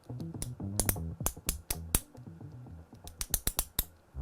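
Sharp, crisp clicks from a MoYu WRM V9 Rubik's cube as its magnetic levitation setting is adjusted, close and loud. The clicks come in irregular bursts, with quick clustered snaps near the end and no talking.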